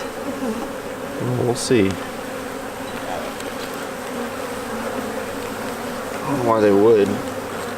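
Honeybees buzz steadily around an open beehive during maintenance, a dense, continuous hum close by, with a person talking over it at times.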